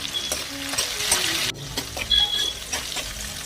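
Onions fry with salt in a pan for an Assamese chicken curry, giving a close, continuous sizzle broken by scraping stirs and small clinks of a spoon against the pan.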